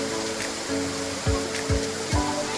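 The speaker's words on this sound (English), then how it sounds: "The park is named after the frothy waterfall that's supposed to look like buttermilk." Buttermilk Falls in Ithaca, a frothy multi-cascade waterfall in a gorge, gives a steady broadband rush of falling water. A few low thumps sound over it.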